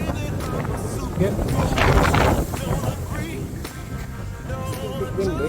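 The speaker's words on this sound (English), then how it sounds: "It's a bit windy." Wind buffets the microphone aboard a sailboat off Guadeloupe, gusting hard in the middle with broadband rushing and flapping, while someone speaks intermittently over it.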